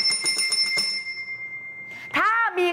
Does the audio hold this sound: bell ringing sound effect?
yes